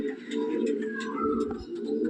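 Teddy pigeon cooing in a low, continuous throaty rumble while being held and handled, close and moderately loud, with faint rustling over it.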